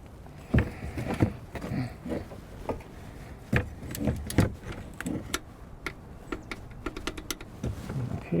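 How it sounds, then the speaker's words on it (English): A torque wrench tightening oil filter housing bolts to 15 foot-pounds on a Hyundai Palisade, heard as scattered sharp metallic clicks and clanks of tool handling up close, with no speech. "Now we're going to go ahead and torque them to 15 foot-pounds"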